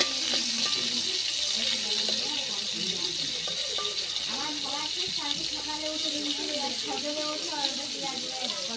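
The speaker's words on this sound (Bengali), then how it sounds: "ভালো করে ভাজতেছি তেল দিয়ে" Chepa shutki, fermented dried fish, fries in oil in a pan with a steady broadband sizzle and crackle throughout, while a voice talks over it.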